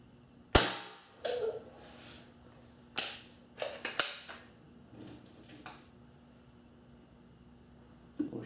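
Ruger Mark 1 pellet pistol fired at a target, sharp snapping shots spaced a second or so apart, several crisp cracks followed by a quieter pause and one last report near the end.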